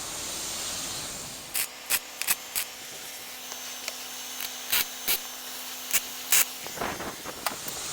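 A spare tire carrier is welded onto a van in short crackling bursts with a steady buzzing hum between them, close and fairly quiet, with no talking.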